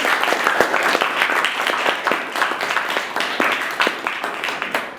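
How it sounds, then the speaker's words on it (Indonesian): A class of students applauds at the end of a lesson, dense continuous clapping from many hands filling the whole stretch at steady loudness. "Berikan aplaus untuk kita semua."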